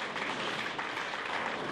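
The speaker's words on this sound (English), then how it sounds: "Applause from the crowd there" Dense crowd clapping at a professional tenpin bowling match in a bowling centre, a continuous mid-level wash of applause filling the short moment.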